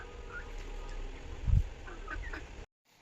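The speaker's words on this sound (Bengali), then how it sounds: "এরা কিচিরমিচির করে খেলতেছে," Brahma and mixed-breed chicks chirping in short, high peeps scattered across the clip, close and moderately loud, with a brief low bump midway and no talking.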